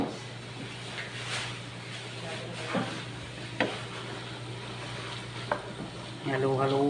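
An omelette mixture with onions is stirred in a sizzling pan, with a steady soft frying hiss and a few scraping strokes of the utensil, close and moderate in level.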